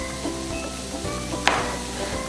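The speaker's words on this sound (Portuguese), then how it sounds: "Vou jogar um pouquinho do queijo dentro da panela." Cheese dropped into a hot pan for a tapioca, giving a soft steady sizzle with a brief sharp clink of a utensil partway through.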